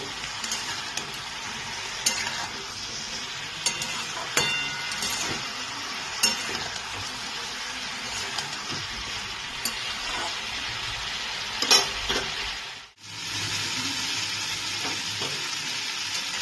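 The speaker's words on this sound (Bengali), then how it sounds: "আলুর সাথে পেঁপেটাকে আমার ভালো করে একটু ভাজা হয়ে গেছে" Steady sizzling of potato and papaya frying in a pan with turmeric and a little sugar, with occasional stirring scrapes and a brief break near the end before the hiss resumes.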